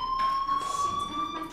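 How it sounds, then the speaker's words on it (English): A fire alarm rings in the video game Life is Strange, a steady, piercing electronic tone sounding continuously with faint background noise beneath. "do you hear that fire alarm?"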